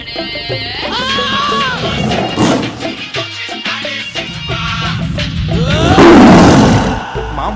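A tiger roars loudly in a comedy film scene, a long rough growling roar building near the end, amid speech and other scene sounds earlier.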